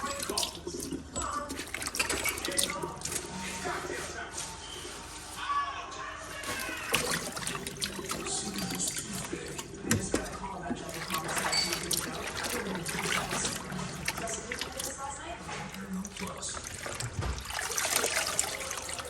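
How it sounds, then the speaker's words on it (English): Cold tap water pouring steadily into a container for a garden seed-growing task, a continuous splashing trickle throughout. "We're going to fill a container with water, cold water."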